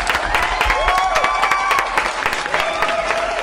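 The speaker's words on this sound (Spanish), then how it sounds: "¡Un aplauso!" Studio audience on a television show breaking into lively applause with scattered cheers and whoops over the dense clapping, close and sustained.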